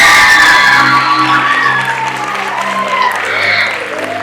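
A crowd claps loudly and continuously at a school prefects' investiture ceremony, with a few whoops and cheers rising over the applause before it eases slightly.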